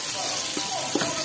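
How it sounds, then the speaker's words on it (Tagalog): Chopped garlic sizzles in hot oil as it fries golden brown, a dense, close crackling hiss throughout with a faint voice underneath. "Tapos muna natin mag golden brown ang bawang."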